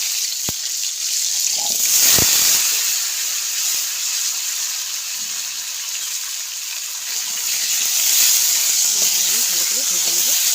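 Raw mango pieces fry in hot oil with cumin seeds, a steady loud sizzling hiss running throughout with a couple of sharp clinks early on and faint voices in the background.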